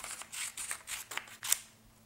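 A series of crisp snips from scissors cutting paper, about seven quick cuts close up in a quiet room.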